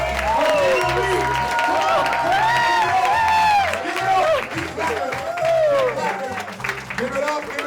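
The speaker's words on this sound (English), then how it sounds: "Clap for her right now." Keynote audience applauding and cheering with whoops, a dense steady wash of clapping and crowd noise, while a loud amplified voice keeps urging the crowd on over it throughout.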